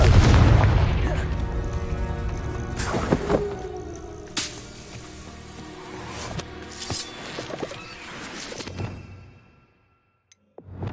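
A Confringo fire spell explodes in the Hogwarts Legacy video game with a loud, close boom and rumbling tail, followed by a few scattered impacts and crackles that fade to near silence.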